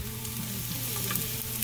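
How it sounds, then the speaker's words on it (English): Zucchini noodles sauté in a hot pan with olive oil, salt and pepper, making a dense, continuous sizzle with a low steady hum underneath and no one speaking. "Quick saute of my fake zucchini noodles right here."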